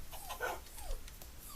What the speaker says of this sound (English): in the background actually whining right now